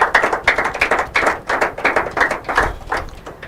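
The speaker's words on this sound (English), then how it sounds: "A big round of applause to First Baptist Schools" Applause at a school quiz and debate competition, a crisp burst of hand claps, close and loud, with bright individual slaps forming an uneven rhythm across the whole stretch.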